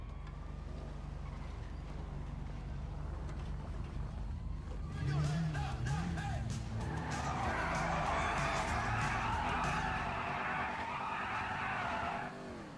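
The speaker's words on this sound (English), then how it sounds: "The only problem is it slides about too much, this car." A normal car on off-road tires slides and drifts in GTA V, its engine droning under a long hissing skid and tire scrub that swells loud and steady through the second half. Talk can be heard over it.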